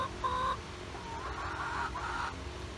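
Backyard chickens clucking nearby, a short burst of loud squawking at the start followed by quieter low clucks against a faint outdoor background.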